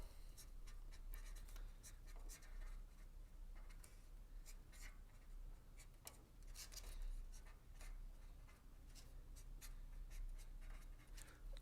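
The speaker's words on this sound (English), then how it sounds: "So I'm just going to write a quick one, give you guys an example" A pen scratches and scrapes across card as a short Father's Day message is written, with soft irregular strokes over a low background rumble and no talking.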